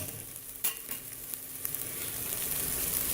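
Potatoes and radish pods frying in a pan with chopped tomato, a steady close sizzle with faint stirring scrapes and one sharp clatter near the start, no voices.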